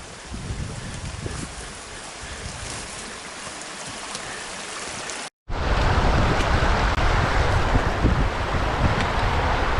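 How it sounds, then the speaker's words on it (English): The White River in New Zealand backcountry rushes in a steady, dense roar of flowing water, broken by a brief cut midway before it resumes slightly louder. "This is the White River."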